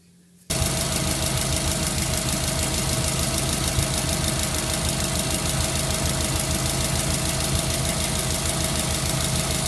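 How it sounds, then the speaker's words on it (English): A Subaru car engine with a 4EAT four-speed automatic transmission runs steadily at idle after a brief quiet start, with a constant rumble and a faint rhythmic knock throughout. "as the engine's running, top it up to the normal level"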